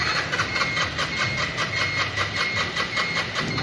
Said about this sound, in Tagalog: nakita nyo naman po na ayaw po mag-start ng motor